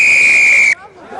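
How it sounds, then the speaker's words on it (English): A referee's whistle in a rugby match gives one long, loud, steady blast lasting most of a second, then cuts off sharply, leaving faint crowd murmur behind it. "second blast of the whistle"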